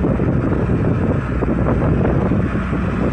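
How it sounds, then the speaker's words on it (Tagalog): Strong wind at sea rushes steadily over a fishing boat in choppy water, a loud, continuous roar buffeting the microphone with no pauses. "Lakas ng hangin kasi."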